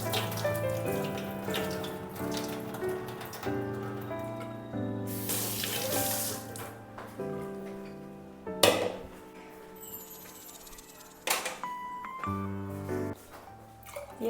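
A kitchen tap runs in bursts while food is washed in a sink, splashing water starting and stopping, with clatter of a container and utensils between pours, close and unaccompanied by talk.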